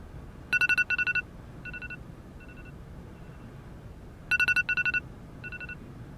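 Telephone ringing for an incoming call with an electronic trill, two bursts of rapid beeping tones separated by a pause, clear and alone over a quiet background.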